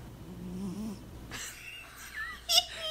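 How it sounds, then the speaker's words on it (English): A sleeping pet snores softly nearby, a low rumbling breath in the first second or so, followed by faint rustling and a brief sharp higher-pitched squeak near the end. "Do you hear her snoring?"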